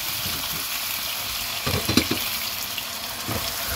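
Kebab sauce frying in oil in a frying pan, a continuous bright sizzle with a brief burst of louder crackling and spatter midway, close and alone without talk.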